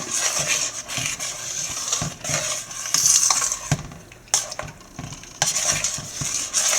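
Green gram dal payasam mixture being stirred in a pot, with a soft bubbling simmer and repeated scrapes and clinks of a spoon against the metal, steady and close.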